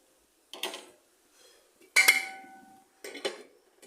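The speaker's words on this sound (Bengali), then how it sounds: "ঢাকা দিয়ে রেখে দেব।" A metal lid is set onto a cooking pot of okra in a home kitchen, giving three separate metallic clanks. The middle clank is the loudest and leaves a brief ringing tone.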